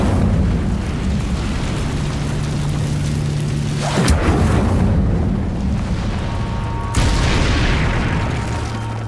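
A fire spell is cast in Hogwarts Legacy amid constant rumbling ambience, with a sharp booming burst midway and a second whooshing blast later, both loud against the steady background.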